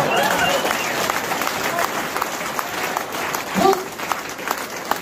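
An audience applauds at a talk, a steady wash of many hands clapping at close-to-middle distance, with a voice speaking over it.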